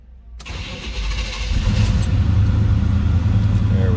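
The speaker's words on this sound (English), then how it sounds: "We're going to fire it up so you can hear it run." A 1971 Chevrolet Chevelle two-door hardtop cranks briefly after near-silence, catches and fires up, then settles into a loud, steady, rumbling idle close by.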